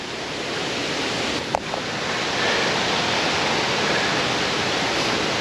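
A 20-foot waterfall near Puerto Vallarta plunges into a pool ringed by foliage, giving a steady, loud, broadband roar of falling water that fills the whole stretch, with one brief click partway through.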